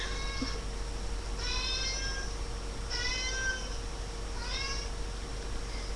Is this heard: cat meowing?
yes